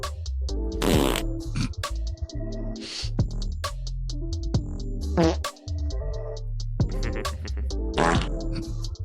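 A comedic fart noise sound effect, loud and close, with a series of blurty, rasping blasts and squelches repeating across several seconds over a dense, busy backdrop.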